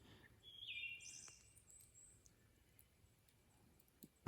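Wild birds on remote wilderness back roads give faint, high whistling calls and chirps, one clearer call early on and sparser distant notes afterward, over a quiet outdoor background.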